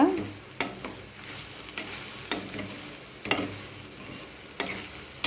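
Meal maker gravy masala sautéing in a pan, with a spoon stirring and scraping at regular intervals over a steady low sizzle; the strokes are close and moderately loud, and nobody speaks.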